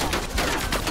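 A sniper rifle shot in Black Ops Cold War fires as a sharp, loud crack inside a short burst of dense, noisy game combat sound.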